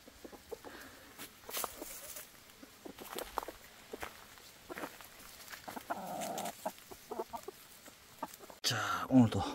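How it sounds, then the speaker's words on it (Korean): Chickens cluck softly nearby while scratching and shuffling in dirt on a rural meadow, with scattered rustles, footsteps and louder scraping noise toward the end. "닭들이 오랜만에 나와서"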